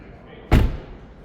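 A storage compartment lid on a 2026 BMW iX xDrive60 shuts with a single close, solid thump, a sharp hit that fades quickly against a quiet background.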